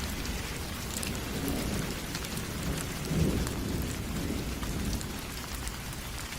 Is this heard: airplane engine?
no